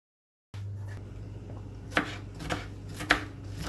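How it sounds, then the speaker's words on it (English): A kitchen knife slices through a broccoli stem up toward the top florets, giving a few crisp, separate cuts over a steady low hum. "Slicing the stem right up to the top florets there."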